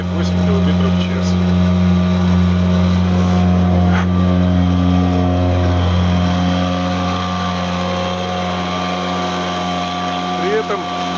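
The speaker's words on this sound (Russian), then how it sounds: "Резервный мотор работает на полную мощность" A Tohatsu M3.5B2 outboard motor runs at full power as the backup engine on a Nissan PF-730T boat under way with a following wind, a loud, steady buzzing drone held throughout with a faint voice under it.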